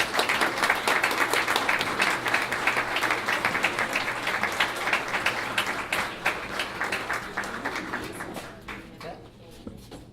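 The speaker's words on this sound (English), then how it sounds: "I think they deserve a round of applause" Sustained applause from a forum audience for town board candidates, dense steady clapping that fills the room before thinning and fading toward the end.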